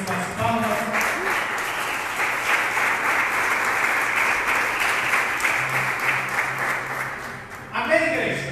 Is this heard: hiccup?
no